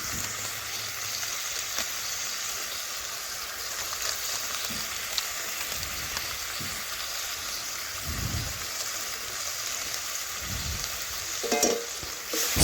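Mustard paste with green chilli paste, turmeric and Kashmiri chilli powder sizzles steadily in a pan, a constant bright frying hiss with occasional soft scraping thuds of stirring underneath.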